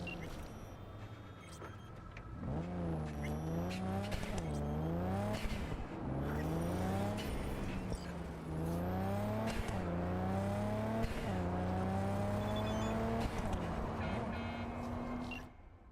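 Mazda RX-7, styled after Dom's Fast and the Furious car, driving in Cyberpunk 2077: a loud engine climbing and dropping through repeated gear changes for about fifteen seconds, with brief tire squeal, alone without talk.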